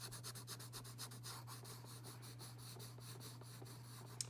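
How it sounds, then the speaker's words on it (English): Pencil shading on paper with the side of the graphite while sketching an elephant, a steady soft rubbing with rhythmic back-and-forth strokes, close and quiet, with a constant low hum underneath. "Using the side of your pencil."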